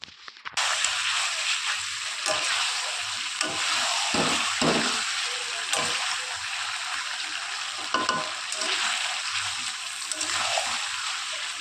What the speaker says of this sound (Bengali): তাহলে চলো বিরিয়ানির মাংসটা ভালো করে রান্না করে ফেলি